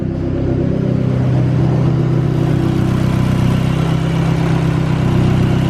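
A Nissan 300ZX Z32 engine running close by, a loud steady low rumble with a deep droning hum, fairly constant with only slight swells and no voices.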